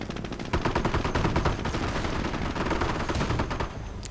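Gunfire rattles nonstop in a World War II strategy video game, with dense overlapping machine-gun bursts and rifle shots, loud and close, with no voices.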